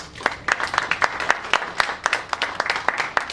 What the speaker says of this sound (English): Again, big round of applause for him.